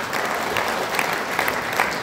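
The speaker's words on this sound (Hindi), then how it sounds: "उनके लिए हाथ ताली हो जाए।" An audience at a TSI qualifiers gathering in Almaty, Kazakhstan claps in a steady, dense burst of applause throughout, with a faint voice underneath.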